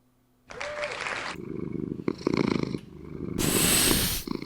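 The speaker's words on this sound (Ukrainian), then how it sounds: "кіт." A cat purring up close in steady rhythmic rumbles, continuous and fairly loud, with brief shifts in texture and a brighter hiss near the end.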